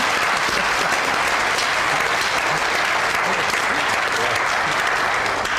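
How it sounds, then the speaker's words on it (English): Loud, dense studio audience applause on an Irish television chat show, continuous clapping with some crowd noise throughout, close and full. "A round of applause."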